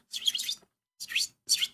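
A human voice imitates bird chirping with three quick, high tweeting bursts: a longer warbling one, then two short chirps after a pause, close and clear against silence.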